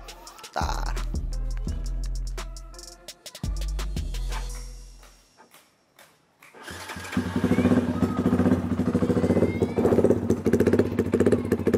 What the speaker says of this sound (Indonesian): Sekarang gue mau coba suara knalpotnya dulu.